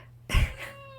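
A house cat gives a single short, loud meow up close, followed by a faint tail of room noise.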